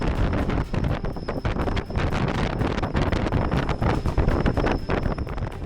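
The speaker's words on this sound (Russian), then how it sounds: "Тут ветер холодный с океана." Strong cold wind off the Arctic Ocean on the Rybachy Peninsula buffets the microphone in continuous loud, roaring gusts with no voices, a steady rumbling blast throughout.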